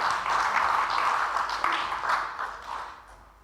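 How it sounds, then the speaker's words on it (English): An audience claps in welcome for a delegation at the opening session of an AMECEA regional learning gathering, a dense, steady patter of many hands that gradually tapers off. "Let's give him a clap."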